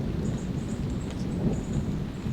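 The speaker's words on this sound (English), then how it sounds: "I'm now hearing thunder towards the north, in addition to the south here." Low, continuous thunder rumbling in the distance during a camping trip, a steady broad roar with a faint high tone above it and no voices.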